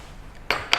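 A metal spoon stirs condensed milk syrup in a cup, giving two sharp, close clinks against the side after a quiet moment.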